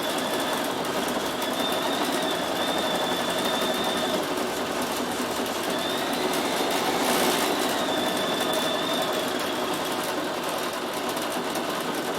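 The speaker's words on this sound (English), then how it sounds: "So I've done that on the fastest that machine can sew that name, and it's on full speed." A Bernina 7 Series sewing machine with embroidery module stitches a name at full speed, giving a steady, fast mechanical whir and rapid needle chatter that runs unbroken throughout, close and fairly loud, with no talking.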